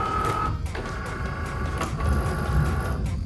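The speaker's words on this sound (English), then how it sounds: "Hit the Cricut button. And let it cut." A Cricut cutting machine works through sticker material with a soft, steady mechanical whir, a high whining tone and occasional clicks as the blade carriage moves.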